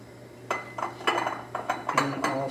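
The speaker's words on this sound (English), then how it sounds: "I'm just grabbing my hot jar" A hot glass canning jar clinks and knocks against hard surfaces in a kitchen, giving a handful of sharp, close glassy taps spaced irregularly over a low steady hum, with no talking.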